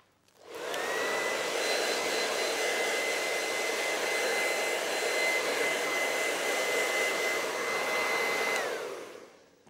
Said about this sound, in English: So I just finished blow drying Jessica's hair